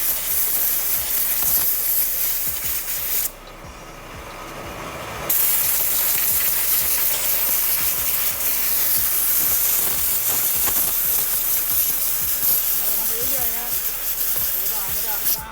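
Compressed air blasting dust out of a Honda car air filter, a loud continuous hissing jet that cuts out briefly and then resumes, fluttering as the filter is turned.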